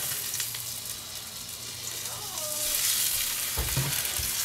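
A freshly flipped rainbow trout fries in a pan with a continuous loud sizzle that swells midway, plus a faint utensil knock near the end.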